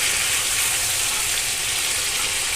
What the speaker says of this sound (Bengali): তো এই যে চিকেনটা কষানো হয়ে গেছে, এখন আমি ঝোলটা দিয়ে দেবো।